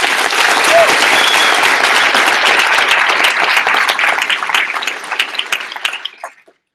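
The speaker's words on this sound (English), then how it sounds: "So one more time, a round of applause for them." A dense, loud round of applause from an orientation audience, sustained clapping that fades out over the last two seconds into silence.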